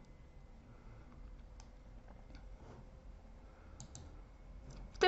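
A mouse button clicked on the join-meeting button of the Jitsi Meet video-conferencing app at a computer: a few soft, faint clicks scattered irregularly over quiet room tone.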